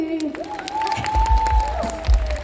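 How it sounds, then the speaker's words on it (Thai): An audience at a Thai stage show claps in scattered applause after two songs. A sustained voice rides over the clapping, with a few low thumps underneath. "ขอเสียงปรบมือเป็นกำลังใจหน่อยได้ไหมคะ"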